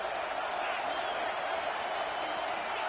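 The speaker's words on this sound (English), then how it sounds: "Decibels rising as the crowd gets behind this defense on 3rd down." Stadium crowd noise at an Arizona State vs Michigan football game, a dense, steady roar of many voices rising as fans back the defense on third down, loud and continuous throughout.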